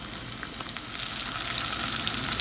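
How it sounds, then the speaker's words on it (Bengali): Dried chillies sizzle in hot oil in a wok for a tempering, a soft steady frying hiss with small crackles and pops, fairly quiet and without voices. "এখন আমি বাগার দিয়ে দিই, তেল দিয়ে দিছি কড়াইয়ে।"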